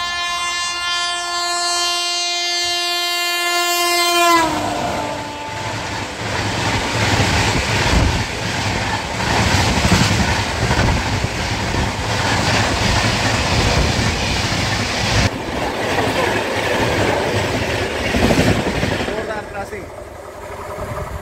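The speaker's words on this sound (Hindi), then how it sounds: "दूसरा क्रॉसिंग होने वाला है" An Indian express train rushes past at a rail crossing near Devpura station, opening with a long, loud horn blast, then a sustained roar and clatter of wagons going by close at hand.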